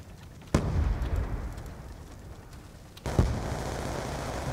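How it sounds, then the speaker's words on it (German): Two sharp grenade-like blasts in the online shooter Call of Duty: Black Ops II, the first loud and abrupt, the second about two and a half seconds later, each followed by a sustained rumbling tail. "Granate fliegt!"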